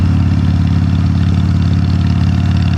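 Motorcycle engine while riding on the road, a loud steady low drone with a fast even pulse, continuous and close.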